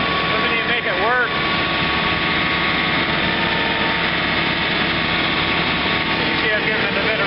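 A John Deere 110 TLB engine runs loud and steady while working a snow blower on a big snow day, a continuous droning roar with whining pitch sweeps near the start and end.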